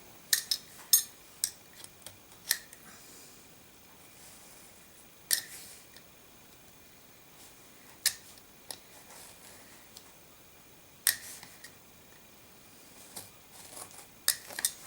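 A blade scoring lines across a Filofax Pennybridge insert: quiet, sparse sharp scratches and clicks spaced a few seconds apart over a hushed background, with no talk.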